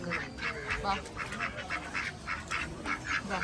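Ducks at a park quack in a steady, rhythmic series of short nasal calls, moderately close, against a quiet outdoor backdrop.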